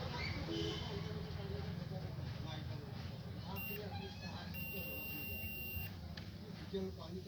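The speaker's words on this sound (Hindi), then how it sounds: "इसमें भी बीप की साउंड आ रही है। इसका मतलब ये कॉइल ओके है।" A multimeter on continuity mode beeps while testing a coil, a thin steady tone lasting over a second under someone speaking and faint background noise.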